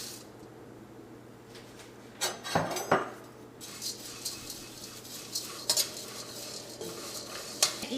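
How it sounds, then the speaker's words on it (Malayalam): Oats dry-roasting in a pan without oil are stirred with a utensil, bringing scattered scrapes and clinks against the metal over a faint sizzle. "നമുക്കൊരു പാനിലേക്ക് ഈ ഓട്സ് ഇടാം."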